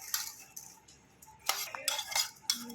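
A spoon stirs tindora (ivy gourd) pachadi in a bowl, with lemon juice just added, giving scattered clinks and scrapes against the bowl in irregular bursts, close and fairly quiet, with no talking.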